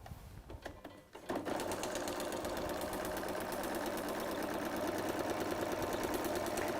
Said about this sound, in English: And then I stitch it down.